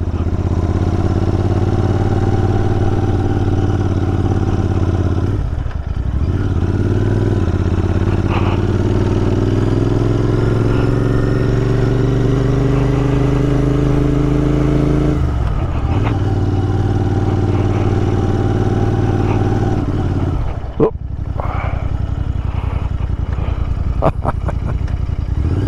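A Royal Enfield Interceptor 650 Mark 2 parallel-twin rumbles loudly and steadily while riding out on the Long Mynd hills. Its pitch rises as it revs and falls through gear changes, with wind noise over it.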